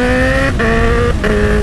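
A Honda CB1000 motorcycle engine revs hard indoors inside a market, a loud steady high-pitched drone held at the limiter with two brief dips between pulls, close and dominant.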